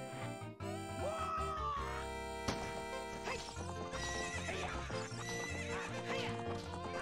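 In The Legend of Zelda: Ocarina of Time, a horse gallops with rhythmic clip-clop hoofbeats and lets out a whinny, set against the game's background music.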